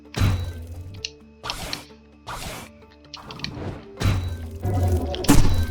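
A door is smashed in the Roblox game Blox Fruits, heard as a run of heavy thuds and crashing whacks in separate loud bursts, some long and noisy, with no talking over them.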